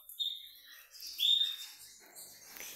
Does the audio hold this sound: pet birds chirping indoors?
yes